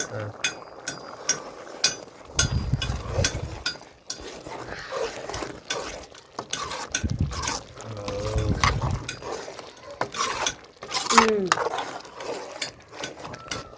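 A spoon scraping and clattering around a pan of green moong dal curry, irregular scraping strokes and knocks throughout, with a voice speaking at times over the stirring.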